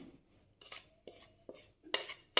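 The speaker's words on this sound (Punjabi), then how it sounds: "ਸਾਰਾ ਰਲਾ ਕੇ ਫਿਰ ਆਪਾਂ ਇਹਦੇ ਵਿੱਚ ਪਾਵਾਂਗੇ ਚੰਗੀ ਤਰ੍ਹਾਂ ਆਪਾਂ ਇਹਨੂੰ ਰਲਾ ਲਾਂਗੇ" A spoon scrapes and clinks against a pan while stirring and mixing stuffing for stuffed eggplant, five or six short, fairly faint, close strokes with quiet gaps between them and no speech.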